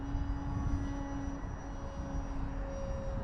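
A Prime Tundra bushplane on floats climbs in flight, its engine holding a continuous even drone with a faint tonal whine throughout.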